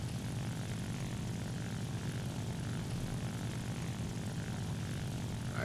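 A steady, droning engine roar from an Ilyushin IL-2 propeller aircraft in War Thunder, heard up close and loud, holding a constant low rumble throughout without interruption.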